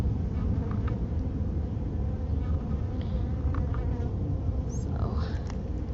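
Honey bees buzz in a dense, continuous drone from an open live hive in late September, close and steady, with a few faint sounds over it.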